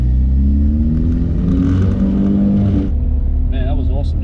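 A Porsche 996 Turbo with a Honda K-series engine swap accelerates hard, its engine note climbing loudly and close in a sustained pull before easing off, with people talking over it.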